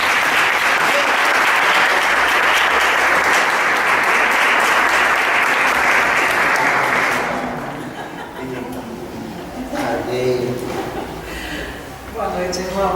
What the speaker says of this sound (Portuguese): Podemos aplaudir Jesus por eles?